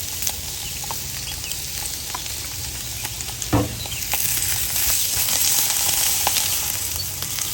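London broil steak searing in olive oil in a hot pan, a loud, steady hiss and crackle throughout with scattered pops, a single thump near the middle, then the sizzle swelling slightly.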